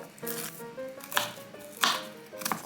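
A knife chops through oven-roasted walnuts on a board with a few crisp, close cuts at irregular intervals, over a faint tonal background.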